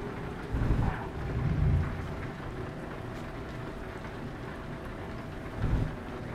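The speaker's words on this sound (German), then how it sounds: "So langsam dürfte der Regen aber aufhören." Rain in the Euro Truck Simulator driving game, a steady broadband hiss with a few deeper rumbling swells of thunder rising and fading, heard alone without any voices.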